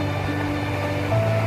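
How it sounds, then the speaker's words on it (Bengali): Calm morning sea at Digha beach at low tide, a steady broad wash of gentle surf close by with a low constant rumble and faint tonal hum, and no voices. "সকালের শান্ত স্নিগ্ধ সমুদ্র"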